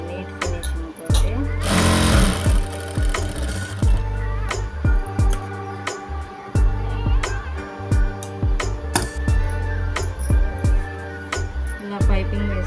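A sewing machine fitted with a normal presser foot stitches thread piping onto a blouse, its needle thumping in quick repeated runs with brief pauses between them, close and clear throughout.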